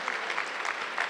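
Short burst of steady audience clapping at a small-business award ceremony, a moderately distant crowd applauding evenly.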